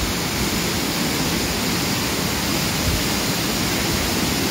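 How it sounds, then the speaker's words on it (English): A steady, broad roar of Glen Ellis Falls, fed by ice-cold water from Mount Washington, fills the scene, constant and fairly close, with no other sounds breaking through. "An impressive little waterfall."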